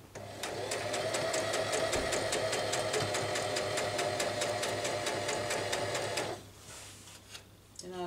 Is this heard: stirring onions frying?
no